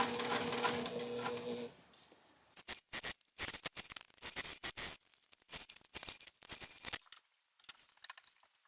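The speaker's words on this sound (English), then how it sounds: "I'm just going to start sewing around this box about 1/8 of an inch away from that folded edge." A sewing machine stitching around a folded zipper box on a pocket piece, heard as a run of short rapid mechanical bursts separated by brief pauses, close and clear, after a few seconds of softer background sound.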